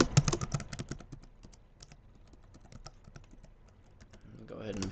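Password being typed on a computer keyboard: a quick burst of close, crisp key clicks at first, then sparser, lighter taps over a quiet background.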